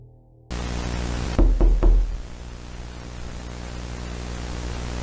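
Three sharp, heavy knocks strike a door in quick succession, loud and close, over a constant hissing static and mains hum that runs through the whole stretch, with no voices.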